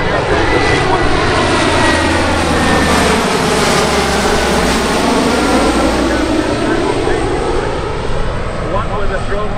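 A C-130 Hercules flies at the Cleveland Airshow, its propeller engines producing a loud, steady drone that rises and falls as it passes, while an announcer talks over the roar.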